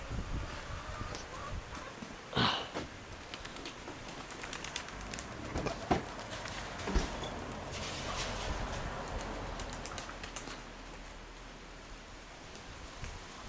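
Young vitruhan pigeons coo softly and continuously at middle distance, low rolling calls repeating through a steady patter of rain or rustling, with a few sharper knocks and flutters along the way.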